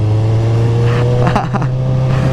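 A 2013 Kawasaki Z1000 1000 cc motorcycle with a slip-on exhaust idles with a steady loud drone, then blips its throttle in a few short revs near the microphone.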